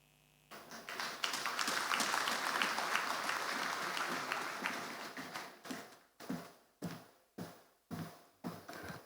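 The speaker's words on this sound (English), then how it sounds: "can we please applaud them one more time?" Applause from an audience at a Nigerian government launch of social initiatives: sustained dense clapping that thins out into several separate loud rhythmic claps near the end.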